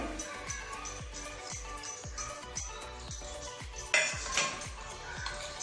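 A fork or whisk clinks rhythmically against a bowl while beating eggs for an omelet with coriander, chili powder and salt, quick steady metallic taps close by, with one louder knock near the end.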